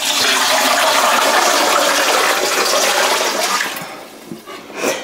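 Water pours into a container in a home kitchen, a loud, steady, close rushing gush for about three and a half seconds that then tapers off into quieter trickles and a few small splashes, with no voices.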